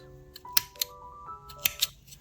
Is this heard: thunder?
no